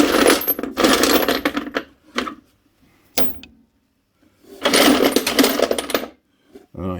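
Old metal impact sockets from a box of UK tools clink and rattle as they are sorted by hand, coming in busy bursts of jangling contact with short quiet gaps and a lone sharp clack between.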